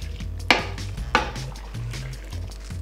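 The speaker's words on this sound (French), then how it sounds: "Je remue." Homemade laundry detergent with baking soda stirred in a cooking pot, two sharp knocks of the utensil against the pot followed by soft swishing and scraping over a low hum, close up.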